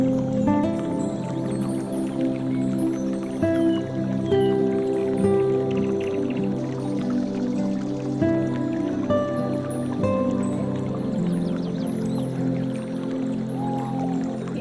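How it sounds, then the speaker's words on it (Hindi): A babbling river flows gently and continuously, soft watery trickles and drips layered under a steady background with sustained tonal hum, no speech. "इस कल-कल करती नदी की आवाज़ को सुनिए।"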